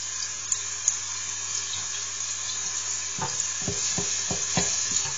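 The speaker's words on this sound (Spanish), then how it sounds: "Y vais dorando la cebolla." Half a finely chopped onion browning in a Newcook pot, with a soft steady sizzle and a run of quick scraping stir strokes in the second half.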